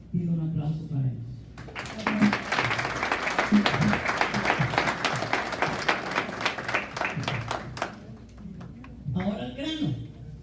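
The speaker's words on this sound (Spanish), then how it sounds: "pido un aplauso para ellos" Applause from a crowd at an Ecuadorian independence celebration in New York, a sustained wash of clapping for about six seconds that rises after a voice and fades back into speech.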